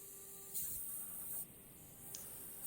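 Compressed air blowing sawdust off a freshly CNC-cut wooden music box piece, a steady high hiss with brief louder bursts, close and alone.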